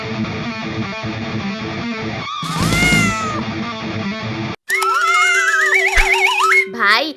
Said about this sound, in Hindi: अब मैं इस बिल्ली को नहीं छोड़ने वाला।